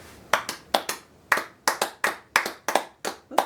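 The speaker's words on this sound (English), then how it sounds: "Let's give ourselves a round of applause." Sharp, irregular hand claps, about a dozen over a few seconds, from a small group in a casual podcast setting, close and fairly loud with no talking.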